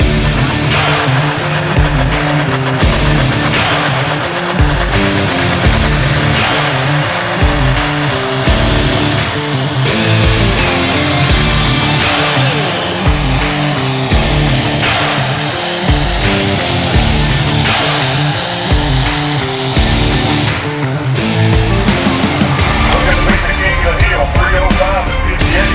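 John Deere tractor straining under load at a tractor pull, a loud continuous roaring engine with pulsing throb and rattling grind that holds for the whole stretch and dips briefly near the end.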